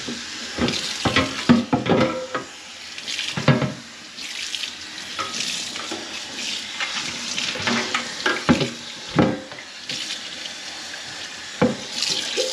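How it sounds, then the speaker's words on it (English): Hot tap water running into a kitchen sink to rinse something, with irregular splashes and clattering bursts as the item is moved under the stream, close and fairly loud. "we'll give this thing a good rinse. Some nice hot water."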